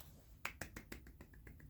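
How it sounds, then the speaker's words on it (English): A soft golf clap, about eight or nine light, quick claps in an even rhythm, faint and close, with no one talking. "Golf clap."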